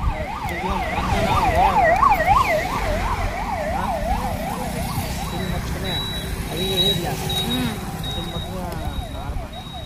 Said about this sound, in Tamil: ஆம்புலன்ஸ் வருதா வரட்டும்